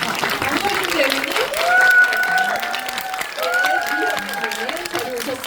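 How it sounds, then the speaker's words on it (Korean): Audience applause at a Netflix special talk and screening event for the film Aema as the director and actors walk in; dense, steady clapping fills the hall under an amplified host's voice. "네, 박수 부탁드립니다."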